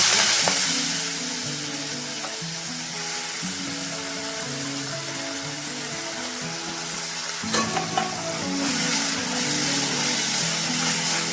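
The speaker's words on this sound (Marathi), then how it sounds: "आपलं तेल गरम झालेलं आहे त्याच्यामध्ये जिरी घालूया लगेच भाजी" Cumin and fenugreek greens sizzle and crackle steadily in hot oil while being stirred, a bright continuous frying hiss with occasional stirring scrapes and soft tonal sounds underneath.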